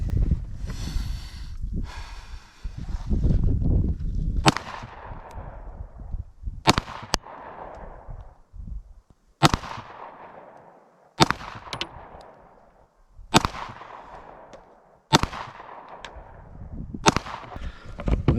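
Steyr L9 A1 pistol fired in slow, evenly spaced single shots at targets on a range, seven or eight sharp loud cracks each trailing off into a short echo.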